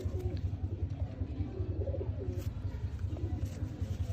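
A Sialkoti pigeon coos in low, steady throaty pulses, close by and continuous, with faint background noise and a little distant talk.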